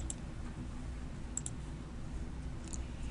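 A computer mouse clicks while a pivot table is inserted in Excel, a few faint, sharp clicks, one single and then a quick double, over a steady background hiss.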